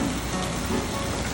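Heavy rain pours down in a dense, steady hiss across the whole moment, close and unbroken, with no voices over it.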